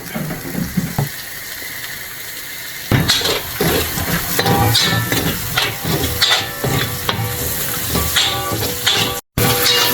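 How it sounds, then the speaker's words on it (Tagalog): Onion and garlic sautéing in hot oil in a pan, stirred with a utensil; quiet at first, then a sudden loud sizzle starts and continues with scraping stir strokes over it, close by, briefly dropping out near the end. "Lagay lang natin sibuyas at bawang natin at siyang haluin."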